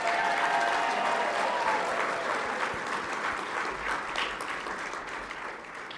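A crowd at the USA Lacrosse Hall of Fame induction ceremony gives an inductee sustained, full applause with some cheering that fades slightly toward the end.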